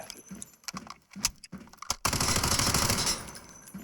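Gunfire in the Delta Force video game: several sharp separate shots in an uneven rhythm, then a loud sustained burst of rapid automatic fire, close and alone.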